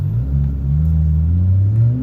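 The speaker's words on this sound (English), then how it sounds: "I think that car just tried to drag race a Pontiac Vibe." A nearby car engine drones in a deep, loud rumble with slowly rising and falling pitch, a sustained low growl from a vehicle trying to drag race a Pontiac Vibe.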